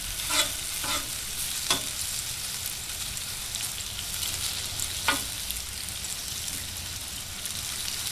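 Omelette frying on a Blackstone 22-inch griddle, a steady soft sizzle running throughout with a few sharp scrape or tap clicks from a spatula, close and fairly quiet with no talking.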